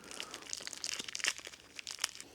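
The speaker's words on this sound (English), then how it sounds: "You can take your duct tape out of this little plastic bag like I'm going to do" Small plastic bag crinkles and rustles as a roll of duct tape is pulled out of it, a close, busy run of crackling and crumpling with a few sharper crunches, no talking.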